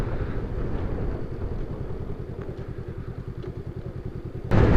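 A Honda Rebel 500 motorcycle idles close by with a steady, even low putter, and a louder burst comes near the end.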